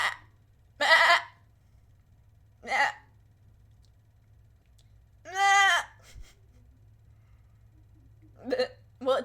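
A human voice imitates a goat bleating, with several short nasal bleats spaced by silences and one longer, wavering bleat in the middle, all close and clear over a faint steady hum.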